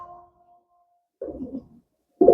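Racing pigeons, long-distance champion birds, give two short bursts of low cooing after a faint tonal hum fades, close and otherwise quiet between calls.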